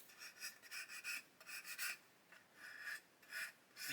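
Repeated short rasping strokes of sanding on the plastic of an Airfix 1/72 Lancaster B.III Dambuster model kit, quiet and close, in an uneven back-and-forth rhythm with brief gaps.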